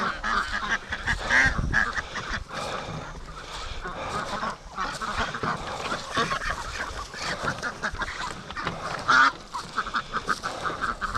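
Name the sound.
free range ducks quacking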